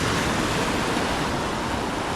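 Calm sea waves wash in a sheltered bay at Amed, Bali, as a steady, loud, dense rush of surf mixed with wind noise, with no voices.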